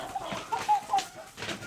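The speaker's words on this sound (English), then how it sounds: "We're giving the chicken some treats." Chickens clucking in a farmyard while being given treats, a few short, moderately loud clucks and soft calls scattered over a faint outdoor background.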